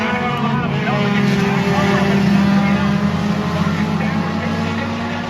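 Stock cars race at Monadnock Speedway, a loud, continuous engine drone with layered revving tones from the pack of cars under a commentator's voice.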